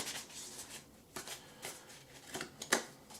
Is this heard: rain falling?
no